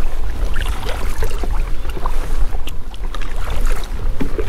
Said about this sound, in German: Weil ich mich ein bisschen abseits vom Ufer bewege, frischt der Wind auf und das Wasser wird unruhig.